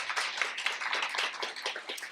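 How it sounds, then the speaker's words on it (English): Audience applause for a group of poets at a university festival poetry reading, a steady dense patter of many hands clapping throughout at moderate, slightly distant level with no voices. "So if we give them all a warm round of applause."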